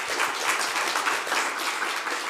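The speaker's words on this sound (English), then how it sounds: "So a great applause." A conference audience applauds, dense continuous clapping filling the room at an even level for a couple of seconds.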